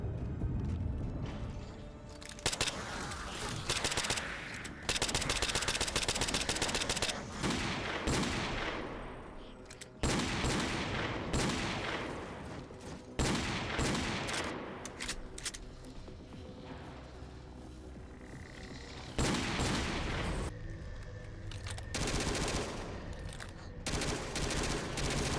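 Halo weapons firing in a Call of Duty mod, dense bursts of automatic gunfire and heavy booms layered with game effects, continuous and loud across the stretch.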